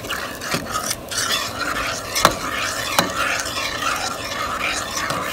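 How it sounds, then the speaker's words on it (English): A spoon stirs mixed dal in a pot on the stove, with steady scraping and gentle bubbling, close and without talk. "So give everything a good mix and boil, and then taste it again."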